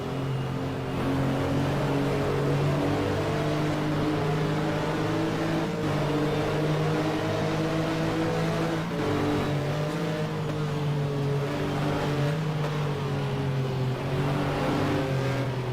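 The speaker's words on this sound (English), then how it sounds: "Just absolutely gunning the throttle." Race car engine held at full throttle in a racing video game set at Silverstone in a 2000 FIA GT 500km event, droning loudly and steadily with slight pitch shifts through the whole stretch, no voice over it.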